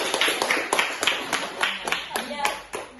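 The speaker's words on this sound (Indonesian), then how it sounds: "tepuk tangan dulu" Group hand clapping in a classroom, a quick run of sharp, fairly loud claps in an uneven rhythm, with voices mixed in.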